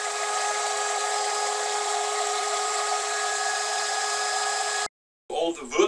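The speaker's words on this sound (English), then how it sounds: "I got this sled on my router table, and I route the recess into my studs here." A router on a router table cuts half-lap recesses into 2x4 studs with a sled, giving a steady, loud high-pitched whine for about five seconds before cutting off abruptly, followed by a short burst of other noise.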